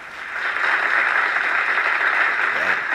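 Steady, even applause from a crowd during a live stream, a dense continuous patter of clapping holding at a constant level for the whole stretch with no voices over it.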